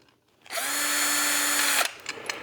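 A power drill drives a bolt into a clamshell hinge on a Bullseye grill: one close, high whirring burst of a bit over a second starts after a short quiet lead-in and cuts off sharply, followed by faint clicks.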